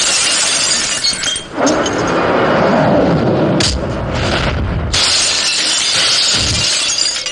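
A car's window glass shatters during a movie fight scene, a loud close crash of breaking glass followed by further bursts and crunching debris.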